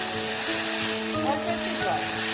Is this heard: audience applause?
no